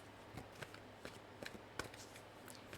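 Oracle cards being shuffled by hand during a card reading, giving soft papery riffles and a few sharp flicks and taps spread unevenly over a quiet background, close and faint, with no talk.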